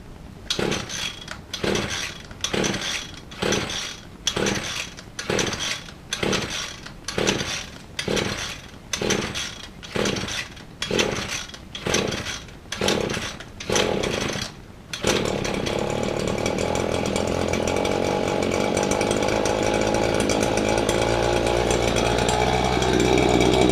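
John Deere string trimmer cold starting: about a dozen rhythmic pull-cord cranking bursts, then the small engine catches and runs with a steady, loud buzzing whine.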